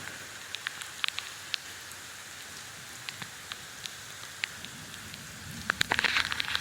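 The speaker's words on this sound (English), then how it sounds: "the rain started in again" Light rain patters on a wooded trail ledge at Pickle Springs, scattered drops ticking faintly and irregularly over a quiet hiss, a little denser near the end.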